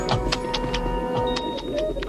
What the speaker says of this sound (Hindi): पंछी चहक रहे हैं।